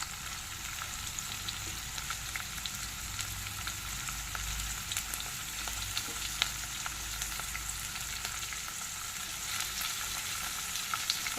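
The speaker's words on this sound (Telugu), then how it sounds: "ఇప్పుడు క్యారెట్, పొటాటో వేస్తున్నా." Carrots and potatoes fry in a pan for breakfast upma, giving a steady, even sizzle that runs unbroken with no voices.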